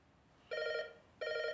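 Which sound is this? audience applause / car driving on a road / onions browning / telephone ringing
telephone ringing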